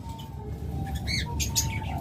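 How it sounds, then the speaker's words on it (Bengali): Violet wing opaline pet birds, a pair of high-mutation parakeets, give a few short chirps and calls against a steady low background hum. "এটা হলো ভায়োলেট ইউইং অপালাইন পাখি ভায়োলেট ইউইং অপালাইন পাখি একদম হাই মিউটেশনের"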